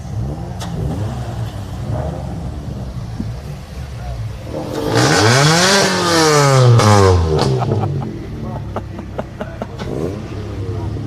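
Ford Fiesta junior race cars rev their engines on the grid before a circuit race, loud rising and falling revs swelling in the middle, with a commentator talking over the engine noise throughout.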